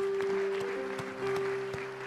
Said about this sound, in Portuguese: Você não vai começar a aplaudir a Deus, não